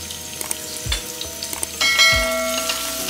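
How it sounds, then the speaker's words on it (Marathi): Sliced onion fries in oil in a pan over a medium flame, a close crackling sizzle broken by a few utensil knocks and scrapes, then a louder burst of sizzling near the end. "आणि आता कांदा ऍड करून घेते आणि याला छान फ्राय करून घ्यायचे"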